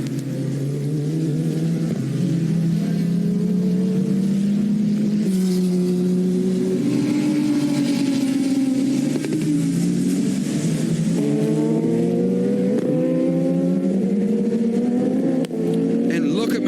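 Several sports car engines, including a V6 3.5-litre, roar and rev continuously at high pitch on a race track, shifting up and down in tone, loud and steady throughout.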